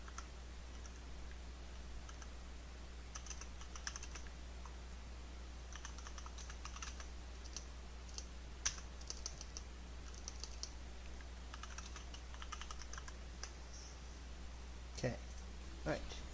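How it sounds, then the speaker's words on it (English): Computer keyboard typing in scattered quick bursts over a low steady hum, close and fairly soft, with a few sharper clicks near the end. "sorry if you hear my clickety clack on my keyboard here"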